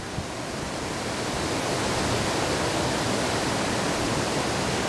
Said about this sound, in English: We're casting a bobber and minnow up to the where the waterfall comes down.